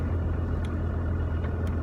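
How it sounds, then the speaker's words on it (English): A high-riding pickup truck drives down a bumpy old back road, its engine a low, steady rumble heard from inside the cab, with faint rattles and knocks over a short stretch. "As I am driving down this bumpy old back road"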